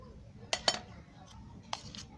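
A spoon clinks against a bowl while mixing a sweet filling of cashews, raisins, pistachios and cardamom-nutmeg powder for bread malpua, with three or four short, fairly faint metallic taps spread over a quiet background.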